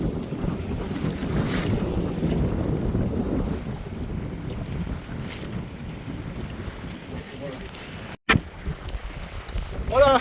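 Wind buffeting a sailboat under sail near an offshore wind farm, steady gusty rush with water wash, a sharp knock near the end, faint talking in places.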